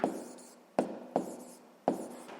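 A pen scratches across paper in four short strokes, each starting sharply and fading, with brief gaps between them, close and fairly quiet during a math exercise.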